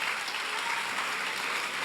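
A church congregation claps together in a short burst of applause, dense and steady throughout the brief moment.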